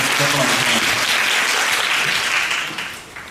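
Audience applause during a stage greeting for the film Perfect Strangers, a loud dense sustained clapping from a large crowd that fades toward the end.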